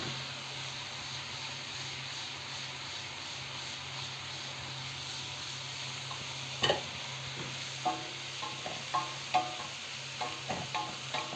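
Shrimp and finely chopped onion sautéing in a pan without oil or butter, a steady soft sizzle with a few sharper clatters of stirring toward the end.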